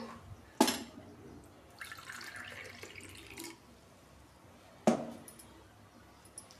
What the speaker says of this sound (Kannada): ಮತ್ತು ಇವಾಗ ಒಂದು ಲೋಟ ನೀರು